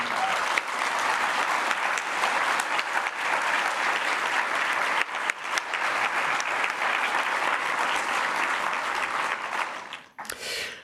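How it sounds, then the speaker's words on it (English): Sustained applause from a conference audience at a museum storage symposium, honoring the translators; dense steady clapping for about ten seconds, then a brief dip and a short resumption at the end. "Les traducteurs que je vous demande d'applaudir aussi."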